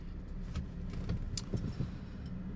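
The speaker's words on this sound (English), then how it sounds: "The knocking's just the bug repellent that I have in my door." A bug repellent container knocks loosely inside the door of a 2010 BMW E60 535i with a six-speed manual while it drives, giving light, irregular taps over a steady low road and engine rumble.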